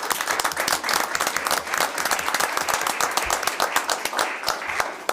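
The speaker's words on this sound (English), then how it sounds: "let's give them a round of applause." A round of applause at a Speedway town council meeting: dense, sustained clapping from many hands, steady and fairly loud for the full stretch, with no talking over it.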